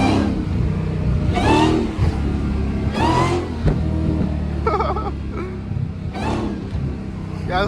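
A Dodge Hellcat accelerates hard, with repeated loud revving surges over a constant engine rumble, heard from close inside the car.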